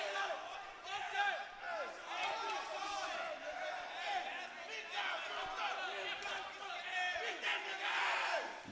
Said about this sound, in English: You can hear Eitan's crowd behind us saying to beat his butt